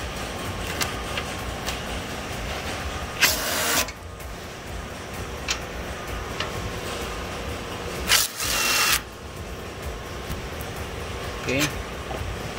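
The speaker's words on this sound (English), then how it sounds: "I'm gonna take these two screws off." Two screws are backed out of a hydraulic turret truck near its hose, motor and pump compartment, giving short bursts of rasping, grinding tool noise at about three, eight and twelve seconds against a steady background hum.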